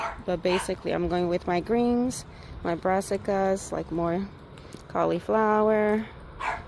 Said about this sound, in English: Pardon my dog.